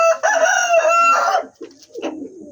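Serama chicken giving one loud, close crow, followed by a few softer clucks.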